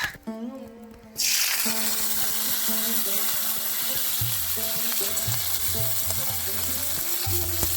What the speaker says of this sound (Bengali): নিম পাতাগুলো এবার আমি